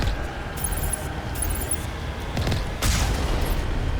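Gunfire in the sci-fi game Mass Effect, bursts of shots fired from a vehicle, mixed with a steady engine rumble and intermittent booming impacts.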